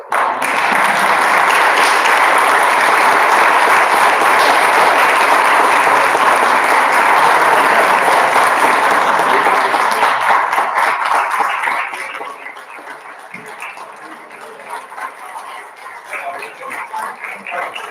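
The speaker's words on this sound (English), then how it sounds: "And we're going to have her round of applause." A room full of people at a city council meeting break into sustained applause, loud and dense for about twelve seconds before thinning out, with voices and scattered claps continuing underneath.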